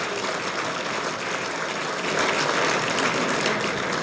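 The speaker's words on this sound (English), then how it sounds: "A round of applause, please, for all the great work that they do." A room full of guests at a golf association's annual meeting and dinner at a country club applauds the club staff, a steady dense wash of clapping that swells slightly midway and holds throughout.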